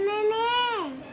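A voices a brief, wavering bleat in imitation of a goat, a single sustained tone that slides down at the end.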